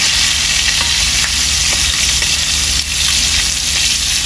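Fish sizzling steadily in plenty of hot oil in a pan, a loud continuous crackle with no voices, holding even for the whole stretch apart from one brief dip.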